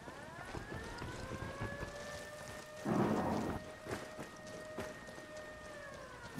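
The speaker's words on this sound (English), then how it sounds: "So you're telling me you didn't just hear that thunder?" Thunder rolling through a rainy outdoor scene in the video game Ghost Recon Wildlands, a loud rumbling clap mid-clip over steady rain, with a faint tonal drone running throughout.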